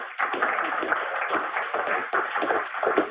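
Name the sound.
audience applause for speaker Misha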